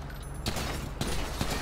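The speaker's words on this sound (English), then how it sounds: "what are you shooting at me?" Gunfire erupts in three loud, sharp bursts spaced about half a second apart, over a constant low background hum, with no talking.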